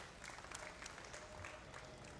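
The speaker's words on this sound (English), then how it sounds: "let's give a round of applause for these brown Swiss heifers and their exhibitors" Applause from a county fair livestock show audience after a Brown Swiss heifer class, a steady patter of clapping that sounds faint and distant.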